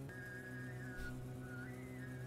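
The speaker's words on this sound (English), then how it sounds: "What is with this whistling sound on the radio?" A faint, steady whistling tone comes over a car radio, with a higher wavering pitch that bends midway, set over a low hum.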